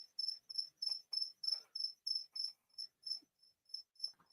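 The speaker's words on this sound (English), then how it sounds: "Joe Boy you can hear at the moment calling is just a regular black cricket" A regular black feeder cricket chirps in a steady, even series of sharp, high trills, about a dozen pulses, faint and alone in an otherwise quiet room.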